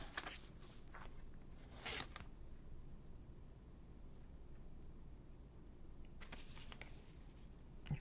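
Scissors cut paper for a mini junk journal in short, scratchy snips, with a burst near the start, another around two seconds in, and a few more near the end, over a faint steady background hiss.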